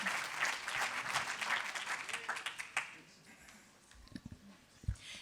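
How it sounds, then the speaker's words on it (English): An audience at the IDFA 2019 awards ceremony applauds the jury coming to the stage, with loud sustained clapping that fades after about three seconds into a few scattered claps and murmurs. "Please give them a warm round of applause as they come to the stage"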